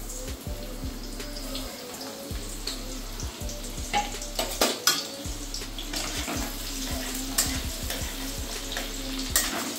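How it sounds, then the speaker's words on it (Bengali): Onions and potato frying in oil in a pan, a steady sizzle underneath with repeated scraping stirs and clinks, close by, with no talk. "আর আলুটাকে একটুখানি ভাজা ভাজা করে নিই।"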